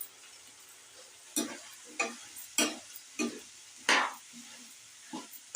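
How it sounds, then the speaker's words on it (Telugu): Bottle gourd pieces are stirred in a pan with prawns, giving six separate scraping, sizzling bursts about half a second to a second apart over a quiet background. "ఇప్పుడు మనం సొరకాయ ముక్కలు వేసుకోవాలి."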